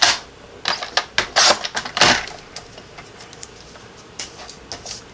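A paper trimmer cuts cardstock for stamp layering, heard as a run of sharp close clicks and slicing swipes, clustered in a burst at first and then a few lighter ticks after a pause.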